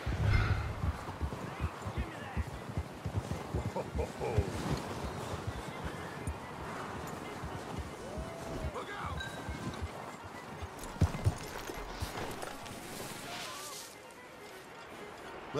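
Horse hooves clip-clopping steadily on the ground as a rider hitches up in Red Dead Redemption 2, a busy outdoor ambience behind with occasional snorts and a voice speaking.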